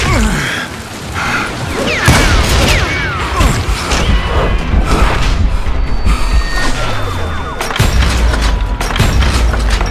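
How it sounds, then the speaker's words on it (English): Dynamite explosions in the Western shooter Call of Juarez: Gunslinger, with loud booming blasts, crashing debris and gunfire bursts layered over a dense, busy game soundscape. "I saw Henry Plummer throw dynamite at me."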